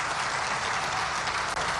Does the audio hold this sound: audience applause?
yes